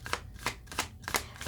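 Tarot cards shuffled in quick riffling bursts, about five crisp papery flutters in an irregular rhythm, close and clear, no talking.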